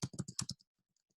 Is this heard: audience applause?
no